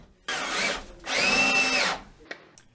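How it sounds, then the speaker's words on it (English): A power drill drives Spax 4x50mm MDF screws into wood scraps during a kitchen shelf build, two sustained whirring bursts, the second longer, followed by a couple of brief clicks, close and clear. "I use these Spax 4x50mm MDF screws I had from the wardrobe build"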